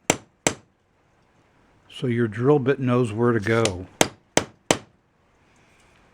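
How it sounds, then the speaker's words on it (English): Sharp metallic taps of a center punch on a 1963 Ludwig bass drum hoop ring out, two before someone speaks briefly and three more quick ones after, each a crisp, isolated clink. "take a nice sharp center punch"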